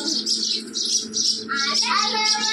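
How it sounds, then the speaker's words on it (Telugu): Small birds chirp outside a village house at daybreak. Bright, repeated bursts of tweeting come in quick clusters, and a voice briefly overlaps near the end. "పిట్టల సౌండ్స్ చూడండి."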